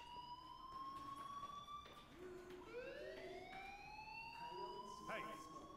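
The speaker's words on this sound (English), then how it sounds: "Hey, do you hear that fire alarm?" A fire alarm in the Life is Strange video game sounds as faint, sustained electronic tones that rise and sweep in pitch, repeating in wailing cycles over a low background hum.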